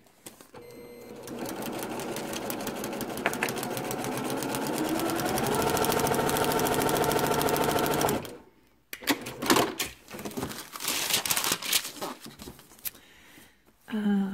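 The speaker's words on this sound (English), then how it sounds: "And now we're going to sew a whole long seam." Sewing machine running a long quilt seam for a block-of-the-month quilt block, a steady rapid mechanical whir lasting about eight seconds, followed by stops, fabric handling and short bursts of stitching.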